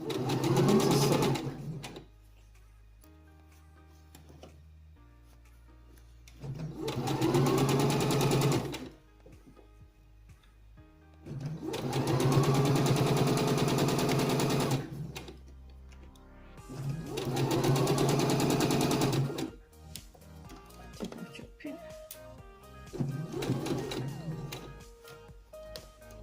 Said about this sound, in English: Lay down. Begin to sew.